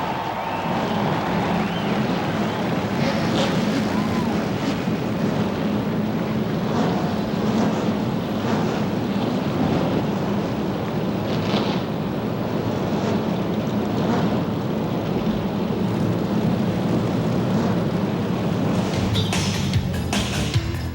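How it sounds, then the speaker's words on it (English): NASCAR stock car engines fire up on the grid at the 1991 Daytona 500, a dense, loud, unbroken roar that rumbles through the whole passage. "Gentlemen, start your engines."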